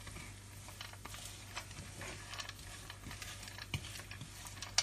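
Dates and poppy seeds roasting in a pan, a soft steady sizzle with faint scraping and stirring clatter underneath and a low hum, quiet and continuous with no talking.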